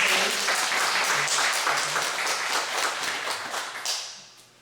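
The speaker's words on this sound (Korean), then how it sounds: "축복의 환영의 박수 한번 쳐주시기 바랍니다." A church congregation claps in welcome, a bright, dense round of applause that rolls steadily for several seconds and then thins and fades out near the end.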